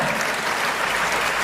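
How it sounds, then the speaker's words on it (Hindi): Dense, steady audience applause fills the hall at a felicitation ceremony honouring GATE toppers, loud and continuous throughout with no talk over it. "इन गेट टॉपर्स का स्वागत जोरदार शोरदार तालियों से हो"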